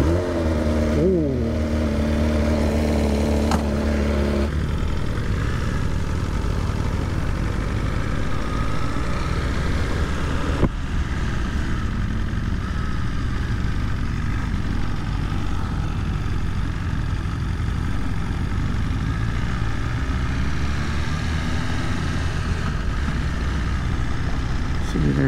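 A BMW S1000RR sport motorcycle engine runs for a long stretch, with a few rising revs early on and then a steady, loud drone heard from the rider's position.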